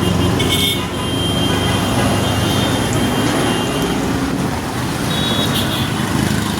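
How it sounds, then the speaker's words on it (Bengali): A vehicle horn rated at 90 decibels gives a couple of short, bright toots, one near the start and another later, over loud, continuous road traffic noise. "আমার হর্নটার সাউন্ডটা হচ্ছে এরকম।"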